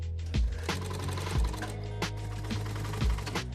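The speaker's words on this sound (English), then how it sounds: "piecing them together on a sewing machine that's over 100 years old" A sewing machine more than a century old stitches fishermen's caps together, its mechanism running in a steady whir with periodic heavier thumps and clatter, fairly quiet, no voices.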